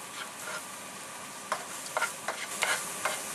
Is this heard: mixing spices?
yes